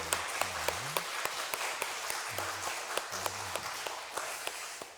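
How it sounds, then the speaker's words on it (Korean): A congregation claps during a Sunday church worship service, with sharp, fairly regular hand claps spaced through the passage over soft low tones and murmuring in the background. "우리 하나님께 영광의 박수 올려드립니다."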